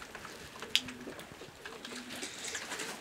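A Janssen De Klak Meulemans racing pigeon gives low, soft coos, a few quiet repeated notes, with a faint sharp click partway through.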